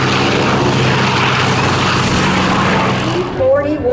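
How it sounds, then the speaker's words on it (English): A Curtiss P-40N Warhawk, flown by Thom Richards at a warbirds airshow, roars loudly and steadily with a broad engine drone that shifts as it climbs away toward the end; an announcer talks over it. "Now, taking off from the left, Teresa, we have our next performer"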